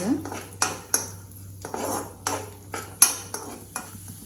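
Cashews and raisins are fried and stirred in a pan until light brown, with a utensil scraping and clinking against the metal in an irregular rhythm of knocks over a faint background hiss.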